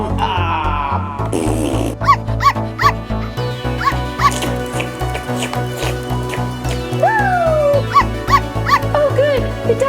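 A cartoon dog barks and whimpers in a few short yips over steady background music, with the playful sounds rising and falling across the scene.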